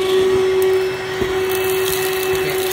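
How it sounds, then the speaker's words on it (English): A Hoover vacuum cleaner runs steadily and loudly close by, a constant motor drone with a strong hum throughout and no speech. "They gave me the main hoover itself, which works."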